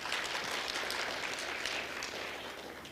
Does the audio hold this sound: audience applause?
yes